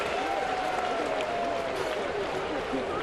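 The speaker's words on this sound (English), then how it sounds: "Launch cheer by Mariner fans here" Mariners fans at a Seattle baseball game against the Texas Rangers roar in a steady, dense crowd cheer that holds loud and even from start to finish, with broad noise filling the stadium.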